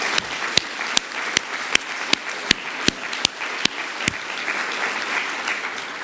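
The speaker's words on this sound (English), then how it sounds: "please join me in giving another round of applause to our wonderful Mannes graduates" Graduates of a performing arts college receive applause at a recognition ceremony, a soft wash of clapping punctuated by a series of sharp, evenly spaced loud claps nearby that fade out near the end.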